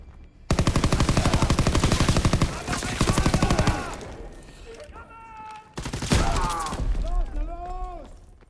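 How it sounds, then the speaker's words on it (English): Fast, loud, close machine-gun bursts in Call of Duty WW2 during a beach landing, rattling in long strings with short pauses, joined by shattering debris and shouting voices over the later bursts. "I really run out of ammo on those machine guns pretty quickly"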